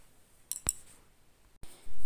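A spoon scrapes and taps against the metal of a pressure cooker while carrots and peas are stirred, giving a few sharp, isolated clinks in near-quiet before a louder rush of sound at the end.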